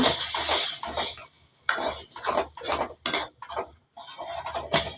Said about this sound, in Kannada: ಟಮಾಟ ಅದು ಹಾಕ್ಕೊತೀನಿ ಚೆನ್ನಾಗೆ ಮಿಕ್ಸ್ ಮಾಡ್ಕೊಳ್ಳೋಣ